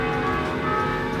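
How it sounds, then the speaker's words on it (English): Church bells ring in a steady, sustained wash of overlapping tones, heard fairly loud with no talking over them. "The church bells are ringing."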